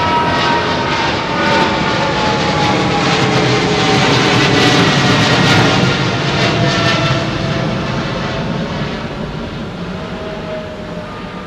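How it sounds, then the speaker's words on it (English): Jet airliner engines spool down at London Heathrow, a loud, steady roar with a whining tone close by that slowly fades over several seconds. "Hear him spool the engines down, man."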